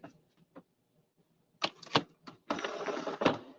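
A die-cutting machine runs paper through to cut out tree shapes for an evergreen card, giving a few sharp mechanical clunks and then a steady, close rattling crank with no talking.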